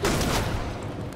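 Gunfire in the turn-based Western game Hard West 2, a loud burst of booming, rumbling shot noise that fills the whole second and trails off slightly, with no speech over it.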